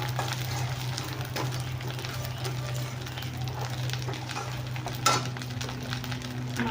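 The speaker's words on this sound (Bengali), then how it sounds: "তো এই মাছটা একটু ভাজা ভাজা হোক" Dried fish frying in a pan, a quiet steady sizzle with faint stirring scrapes and one brief clink partway through.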